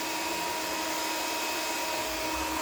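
A hair dryer blows steadily at close range with a loud, even whooshing hiss and no voices, used to push paint colors around.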